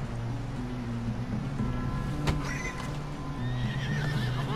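In Red Dead Redemption 2, a horse whinnies loudly partway through over steady hoof clip-clops and a low background hum, with no voices.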